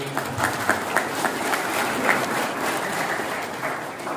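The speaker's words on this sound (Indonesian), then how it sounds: "Tepuk tangan aku" Audience applause at a motivational talk, a steady wash of clapping from a crowd with scattered sharper individual claps standing out, sustained at even loudness throughout.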